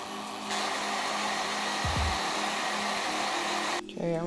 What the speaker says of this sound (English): I'm gonna blow dry that.